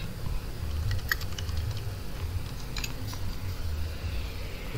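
Fingers typing on a computer keyboard, a quick run of light clicking keystrokes in small bursts, close and fairly soft over a low steady background hum, with no speech.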